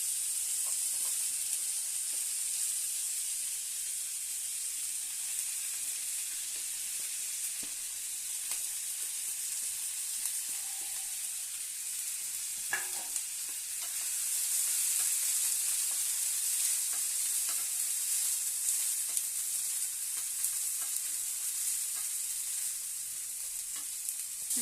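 Vegetables fry lightly over low gas heat in a pan for a rice-water soup, giving a soft, steady sizzle with faint crackles and a few brief utensil clicks.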